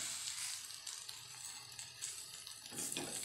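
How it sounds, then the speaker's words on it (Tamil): Raw banana slices fry in spice masala with curry leaves for a South Indian vazhakkai varuval, a steady close sizzle running throughout with faint stirring and a brief burst of louder crackle near the end. "இந்த வாழைக்காயில் இந்த காரெல்லாம் நல்லா ஒன்றா சேர்ந்து வர வரைக்கும் நல்லா வறுக்கணும்."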